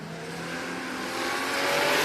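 RB-powered hatchback drag racing car at Warwick Dragway in Australia: a loud engine roar building steadily as it revs and accelerates, close and continuous for a couple of seconds, with no voices.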